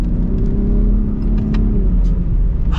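A 2021 Ford F-150 Raptor pickup rumbles off-road through ruts, its engine giving a loud, close, steady low drone with faint rattles and knocks, no voices.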